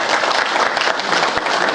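A loud, dense burst of audience applause fills an auditorium during a celebration honouring soldiers of the Rajputana Rifles, with sustained continuous clapping close up and no speech.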